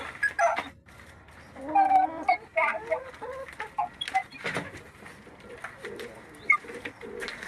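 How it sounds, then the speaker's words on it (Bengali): Soft pigeon coos repeat at close range in a home poultry yard, amid other bird calls and light clucking from chickens, with some background voices and scattered noises. "কবুতর"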